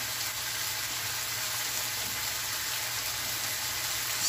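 A New York striploin steak frying in a pan, giving a steady, even sizzle that carries on unbroken throughout at moderate loudness, with no talk over it.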